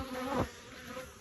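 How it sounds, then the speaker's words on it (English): Honeybees buzz at the entrance of a queenless hive, a close, steady insect drone with one louder pass as a bee flies near, over a soft outdoor background. "Just a little bee there."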